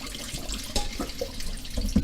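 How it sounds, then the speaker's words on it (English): Kitchen tap water runs into a sink while pasta and peas are drained, a steady close splashing rush with a few brief clinks and drips, no talking. "I always run water when I drain this out"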